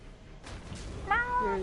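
Cat meowing in a Mass Effect game scene: a rising, drawn-out meow that bends downward, heard alone over a faint background hum after a moment of quiet.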